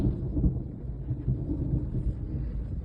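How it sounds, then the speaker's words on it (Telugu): Low, heavy rumbling of thunder rolls continuously with rain noise, loud and sustained with no talking. "ఉరుములు మెరుపులు"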